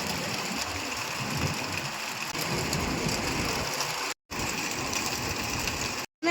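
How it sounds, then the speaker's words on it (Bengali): Heavy rain pours steadily in the hills of East Sikkim, a dense, loud, continuous roar of falling water with low rumbling underneath, broken by two brief silent gaps. "এত বৃষ্টি হয়েছে যে এখানে 6খানা ওয়াটারফল তৈরি হয়েছে।"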